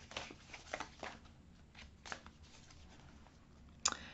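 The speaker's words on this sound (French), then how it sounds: "Je vais tirer une carte." A card is drawn from a rose oracle deck: soft papery slides and light taps at close range, quiet and intermittent, ending in a sharper snap of card against card.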